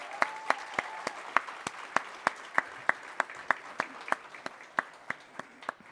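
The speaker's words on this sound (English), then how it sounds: "You can applaud." An audience at a college workforce advisory meet-and-greet applauds, thin and sparse clapping in a steady, even rhythm of distinct claps, fairly close and without any voices over it.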